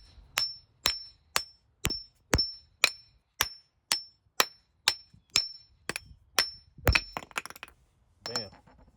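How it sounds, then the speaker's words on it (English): A hammer strikes a 2004 Chrysler Pacifica engine mount about fifteen times in a steady rhythm, each blow a sharp clang with a short ring, close and loud. "So we're gonna take a hammer and knock this off."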